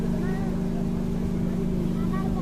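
Engine of a passenger launch cruising on a river near Narayanganj, a steady loud low drone with constant hum throughout, while people talk nearby over it.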